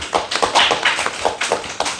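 Applause from a small group in a classroom, a short run of irregular claps and taps, close and fairly loud, with no talking over it.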